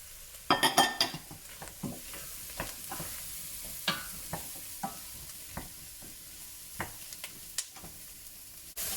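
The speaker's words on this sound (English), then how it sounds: "I'm going to add the mushrooms and let them cook down a little bit." Mushrooms and softened onion for a keto cauliflower chorizo soup fry in a pan with a soft steady sizzle, while a utensil stirs and scrapes, giving scattered clinks and knocks against the pan; no speech.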